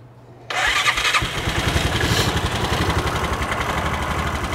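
Bennche 500 utility vehicle engine with a knocking, smoking motor starts up and settles into a steady, somewhat low idle, its rhythmic chugging loud and close with no talking.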